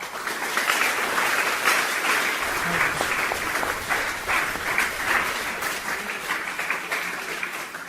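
Audience applause, a sustained dense wash of many people clapping, loud and even from start to finish with faint voices mixed in.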